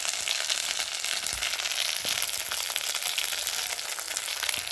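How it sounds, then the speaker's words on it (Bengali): Salt, chilli powder, turmeric and green chillies frying in hot oil in a pan, giving a steady, close crackling sizzle that holds at an even level throughout, with no talk over it. "দিয়ে মশলাটা ভালোভাবে কষিয়ে নেব।"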